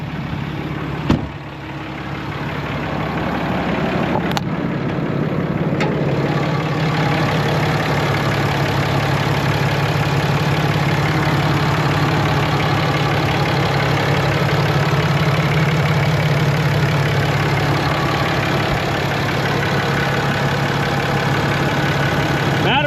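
A 2014 RAM 3500 Laramie Mega Cab with a 6.7L Cummins diesel idling under an open hood, a loud, steady low rumble with a constant hum and a couple of faint clicks near the start.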